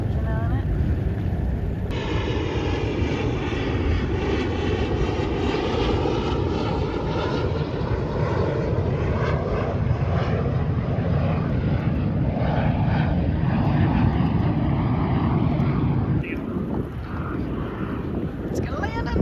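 A fixed-wing propeller aircraft passes low overhead above a boat on the water, a loud sustained engine roar with wind buffeting the microphone, fading slightly near the end.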